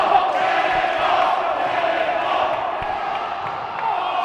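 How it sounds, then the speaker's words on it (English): A wrestling show crowd cheers and roars in a continuous broad wash of noise, steady and fairly loud, with scattered shouts from the audience. "the crowd appreciates it"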